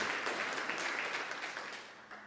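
An audience at a school district meeting applauds the student groups who presented. The clapping is steady and fairly faint, with no talk over it, and fades slightly near the end.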